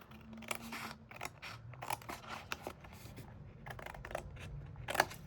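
Scissors cut through paper for a handmade treat box craft. Several quiet, close snips and crunchy paper rustles are heard in irregular bursts, with no speech.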